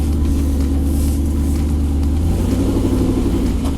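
A Land Rover Defender V8 drives hard on a lap, its engine droning loud and steady from close inside the cabin, with a slight rise in revs partway through.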